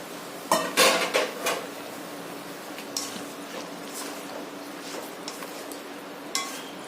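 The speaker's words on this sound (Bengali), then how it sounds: "এবার এই ম্যারিনেট করা মাংসটা এর মধ্যে দিয়ে দেবো।" Marinated mutton goes into a cooking pot that already holds onion and green chilli paste, for a light mutton curry: a few sharp metallic clanks of spoon on pot early on, then quieter scattered clinks with no talk.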